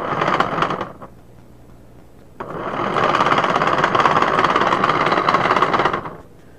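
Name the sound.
small homemade lobe blower running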